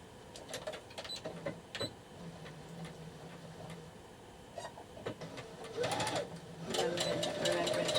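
A sewing machine stitches a shoulder seam on a Tilly and the Buttons Stevie garment in short whirring runs with a fast ticking needle rhythm. It is quiet at first, then louder and steadier toward the end.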